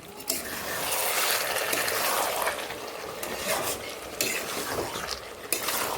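A chicken gizzard and liver curry with potatoes is stirred in a pan after the lid comes off, giving close scraping and shuffling strokes over a soft sizzle, with occasional utensil clinks.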